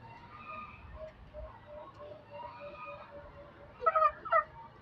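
An Alimokon dove calls twice in quick succession near the end, clear and fairly close, after soft background chirps from other birds in a quiet outdoor setting.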